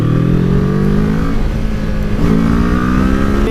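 A 2016 Kawasaki Ninja 650 motorcycle revs hard, its engine pitch climbing, dipping briefly, then rising again in a loud, continuous close-up drone with no talking.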